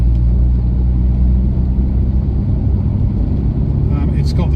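A rebuilt 1989 Toyota Celica GT-Four Rally ST185 with close-ratio gearbox and competition clutch drives along, its engine a steady deep rumble with road noise close by for the whole stretch.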